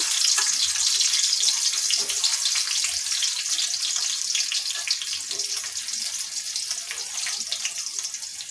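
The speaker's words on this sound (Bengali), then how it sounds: "তেলটা আমার গরম হয়ে গেছে। দিয়ে দিলাম এখানে পেঁয়াজ কুচি।" Chopped onions dropped into hot oil for a beef and long bean curry hiss in a loud, dense, continuous sizzle up close, steady throughout with no voices.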